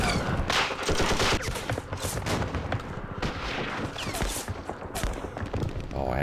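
Rapid, sustained gunfire from units in the Vietnam war strategy game Campaign Series Vietnam, a dense loud volley of crackling shots and thumps that keeps going without a break.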